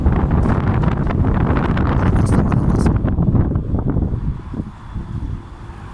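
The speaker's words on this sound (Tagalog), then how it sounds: "Ma pangit ang ihip ng hangin maalinsangan" Strong wind buffets the microphone in loud, gusty roaring bursts, easing somewhat toward the end.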